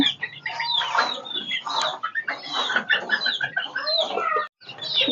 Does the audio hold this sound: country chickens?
yes